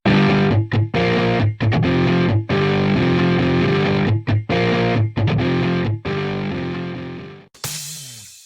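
Electric guitar riff played through Guitar Rig 5 Pro amp simulation with a Pete Won't Explain preset: loud, distorted, chugging chords in a steady rhythmic pattern with short breaks, ending with a final ringing chord that fades.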